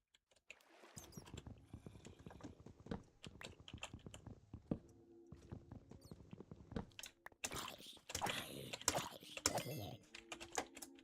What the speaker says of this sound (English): Gosh, I'm clicking hard.